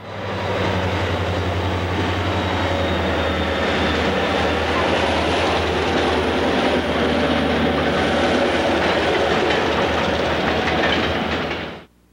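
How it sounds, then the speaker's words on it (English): A northbound Illinois Central freight train rumbles past close by, a loud continuous roar with rattling wheels and clanking cars, cutting off abruptly at the end. "Northbound Birmingham to Chicago Symbol Freight BC-4 passes."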